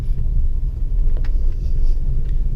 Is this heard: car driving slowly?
yes